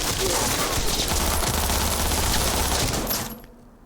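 Submachine gun fire in Cyberpunk 2077 sounds as a loud, continuous burst of rapid shots that cuts off abruptly just before the end.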